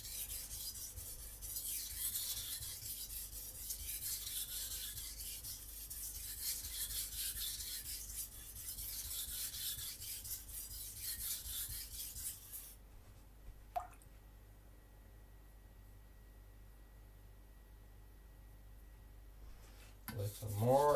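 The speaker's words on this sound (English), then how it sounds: "So I need to sharpen a little bit here." A Takamura Migaki R2 gyuto is stroked across a sharpening stone. Repeated rhythmic scraping passes run steadily for about thirteen seconds, then stop, leaving quiet with a faint clack at the end.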